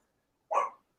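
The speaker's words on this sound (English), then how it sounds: "my dogs are screaming" A single short dog bark sounds close and clear, alone and surrounded by silence.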